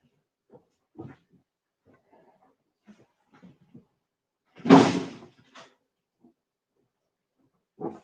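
A door opens and shuts once for a visitor at a barbershop, a single loud bump in the middle, with sparse faint shuffling and movement before it and another short knock near the end.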